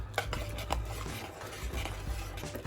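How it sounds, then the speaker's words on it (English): A spoon scrapes and clinks steadily in a pan while flour gravy mixture is stirred, soft and close, in an even rhythm with no talk. "Just keep stirring it."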